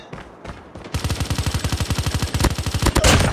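A sentry gun opens up in Call of Duty Mobile multiplayer with a loud, rapid burst of automatic fire, evenly spaced shots for over two seconds after a brief quieter lead-in.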